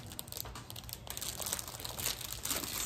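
Individual plastic baggies of diamond painting supplies crinkle and rustle steadily and close by, a continuous dry crackling with no speech.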